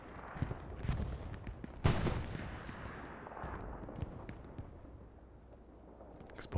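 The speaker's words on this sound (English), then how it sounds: "Explosion happens out in the distance." Hell Let Loose battle at Vierville on Omaha Beach: a heavy distant explosion booms amid scattered gunshots and rumbling artillery, and the rolling echoes fade across the battlefield.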